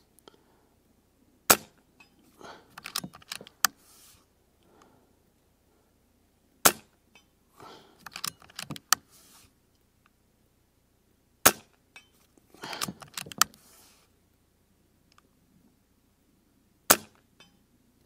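Avenge-X Classic .177 air rifle firing JSB slugs at steel targets 100 yards away outdoors, a few sharp isolated shots spaced several seconds apart, each followed by faint clinks and small handling noises in an otherwise quiet setting.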